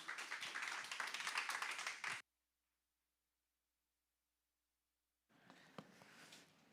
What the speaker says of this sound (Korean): 우리 박수로 환영하시겠습니다